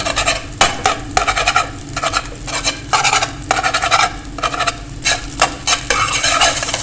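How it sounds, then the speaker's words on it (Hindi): Egg being stirred and broken into small pieces in a pan with a utensil, giving repeated scraping and tapping strokes against the metal over a steady low background hum, with no talking. "अब इसको कर लेते हैं मिक्स, क्योंकि हमें कच्चा पक्का सा अंडा चाहिए"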